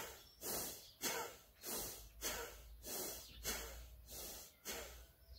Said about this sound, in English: Nice deep breaths and belly breathe.